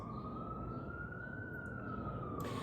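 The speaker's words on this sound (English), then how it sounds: "You know, the siren in the background." An emergency vehicle siren wails steadily in the distance, its tone slowly rising and falling over constant low traffic rumble.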